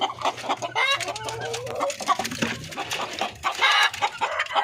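Darag native chickens clucking and calling close by in a lively, continuous flock chorus with overlapping bursts and no talk.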